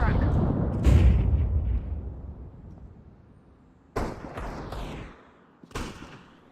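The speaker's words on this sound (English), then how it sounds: "Throwing a flashbang!" Flashbang grenade bursts in Counter-Strike, several sharp broadband cracks landing after a fading boom, each a short loud hit with quick decay, with game noise and a player calling out around them.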